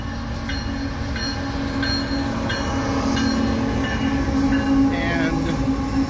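A southbound CSX mixed manifest freight train rolls past on track two, a loud, steady rumble of wheels on rail with faint rhythmic clicks and squeals, no voices over it.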